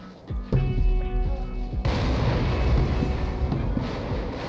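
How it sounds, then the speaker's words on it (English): An explosion in the video game Crysis bursts in with a loud low boom and tonal hum, then gives way to a sustained rumbling, wind-like roar that stays loud to the end. "So here's our explosion."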